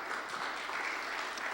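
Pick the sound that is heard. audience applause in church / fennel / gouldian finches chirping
audience applause in church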